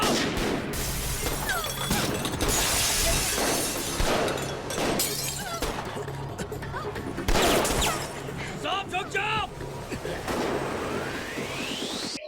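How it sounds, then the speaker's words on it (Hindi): Gunfire from a Tamil action film scene starring Thalapathy Vijay, with sharp broadband bursts and shattering crashes repeating through the whole stretch, loud and dense, mixed with film score and voices. "ये अकेले गन वाले और इतने सारे लोग गन चला रहे"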